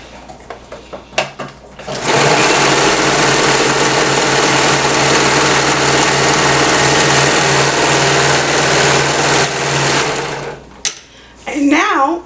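A sewing machine runs a quarter-inch seam along the short edge of a yoga band on a summer romper. It gives a loud, steady whir for about eight seconds, and speech comes just before it starts and after it stops.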